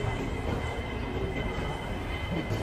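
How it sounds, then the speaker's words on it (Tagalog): The airport train at Hong Kong International Airport rolls along with a continuous low rumble and wheel noise, heard from inside the carriage, steady throughout with no talk. "We're going to ride at the train, going to immigration."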